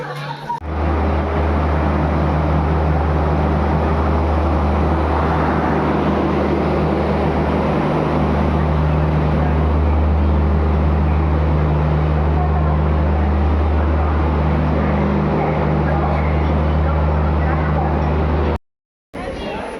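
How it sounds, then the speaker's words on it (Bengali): A Kolkata–Gwalior Superfast Express rolls into Kolkata station, giving a steady low engine drone and broad rumble that holds for nearly the whole stretch, with platform voices mixed in before it cuts out abruptly near the end. "ট্রেন ঢুকে গেছে অলরেডি স্টেশনে।"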